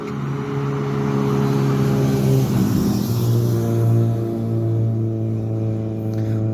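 Cars driving past on a street in Supetar, Croatia, a steady engine rumble swelling and easing as vehicles go by, with a closer car passing midway and no talk.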